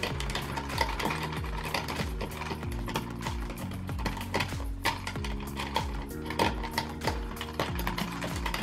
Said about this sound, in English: Put our tension wrench back in there, slide our rake in.